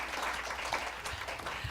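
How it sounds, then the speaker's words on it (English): Conference audience at a Korea-U.S. policy dialogue on carbon neutrality applauds its speakers, a dense, steady wash of clapping that stays even and fairly loud for the whole stretch with no voices over it. "give a big round of applause for our speakers again"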